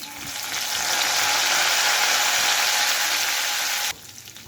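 Curry leaves dropped into hot oil left over from frying chicken for manjali biryani, giving a loud, steady crackling sizzle that holds for about four seconds, then cuts off sharply to a quieter hiss.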